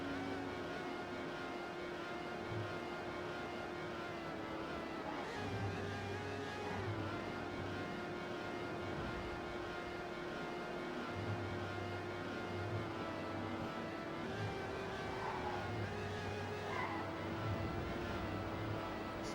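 Racing car engines from a Trackmania NASCAR/FunSpeed match, a steady droning whine held throughout with shifting pitch as the cars race, loud and continuous with no talk over it.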